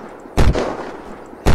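Two loud gunshots in the survival game Unturned, one burst early and another near the end, each a sharp broadband crack with no voices over them.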